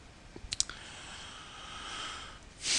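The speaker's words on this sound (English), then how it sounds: "Once you've entered the name, click the Next button." A few sharp mouse clicks land close together near the start, followed by faint room tone and a brief louder rustle at the end.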